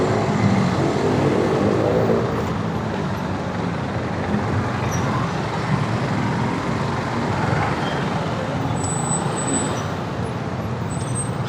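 Jammed road traffic near a Shell station in Valenzuela gives a continuous loud wash of engine rumble and road noise, with faint hisses like air brakes now and then.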